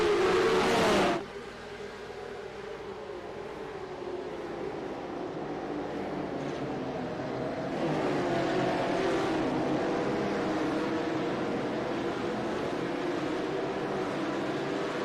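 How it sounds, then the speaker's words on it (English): Porsche Cup race cars in a racing game pull away at the start at São Paulo, Brazil, a sharp burst followed by a sustained, layered engine drone of the field that builds slightly and holds steady. "Sao Paulo roars to life with engines once again"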